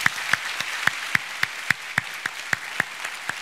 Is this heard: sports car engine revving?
no